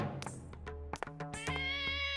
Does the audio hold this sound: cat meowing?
yes